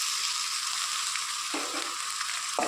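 Tomatoes and garlic fry in a pan with a steady, close hiss of sizzling oil, broken by a couple of brief stirring scrapes; no voices.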